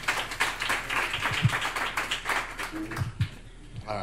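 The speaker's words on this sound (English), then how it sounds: "please give a large round of applause for Dave" A room of guests at an 85th birthday party clapping for Dave, a brisk patter of hand claps running throughout with voices murmuring underneath.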